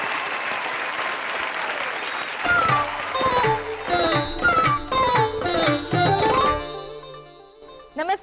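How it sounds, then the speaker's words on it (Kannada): Loud audience applause at a televised singing reality show stage fills the first couple of seconds, then gives way to bright, rhythmic stage music with tonal chords. "ಜೋರಾದ ಚಪ್ಪಾಳೆ"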